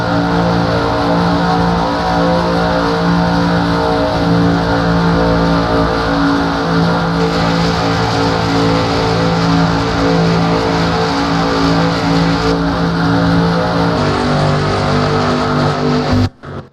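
Onboard a stock car in the 2009 Daytona 500 Cup Series race at Daytona, steady loud engine drone with layered harmonic tones as cars close on lapped traffic, continuous throughout and ending abruptly.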